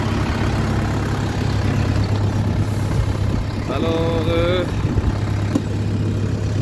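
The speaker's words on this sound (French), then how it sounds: "Je ferai juste un petit tour de tracteur." Tractor engine idling then running at low speed on a farm field before harrowing snow peas, a steady low rumble throughout, with a brief mechanical whine midway and someone speaking briefly over it.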